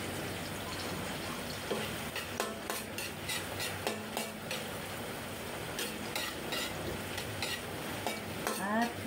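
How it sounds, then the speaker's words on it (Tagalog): Onions sizzle and fry in a pan, a steady close crackle with repeated scraping stirs from a utensil against the metal. "Lagyan na rin natin ang sibuyas."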